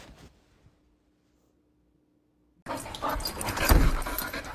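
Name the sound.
dog panting and whimpering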